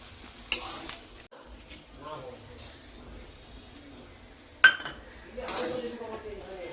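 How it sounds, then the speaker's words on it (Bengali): Paneer fried rice stirred and turned in a pan, with a steady scrape and rustle of rice and a few sharp clanks of the spoon against the metal. "অনেকগুলো তো নাড়াচাড়া অসুবিধা হয় বলে আমি একটু ঘুরে ঘুরে দিচ্ছি"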